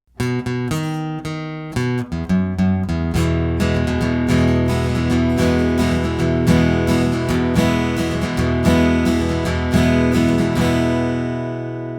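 An acoustic guitar strums a song in a steady country pattern, bass notes alternating with chord strums in an even, driving rhythm, close and alone.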